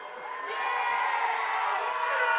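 A home football crowd at a high school game cheers and roars, the broad swell of many voices rising over a couple of seconds and holding steady at a moderate distance.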